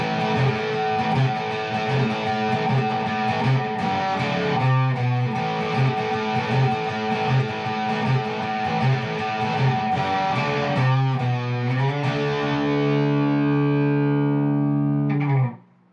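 Electric guitar built from a STRICH DIY kit plays through an effects preset with distortion, a steady run of loud strummed chords and notes for about sixteen seconds before cutting off abruptly.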